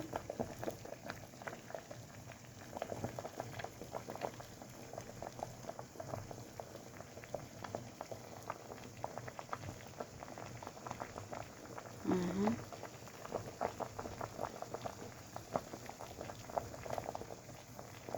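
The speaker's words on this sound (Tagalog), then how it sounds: "Kasi, 30 minutes ko nang pinakukuluan eh." Corn cobs boiling in a pot of water, a soft steady bubbling and simmer that runs the whole time at low level with a brief voice near the middle.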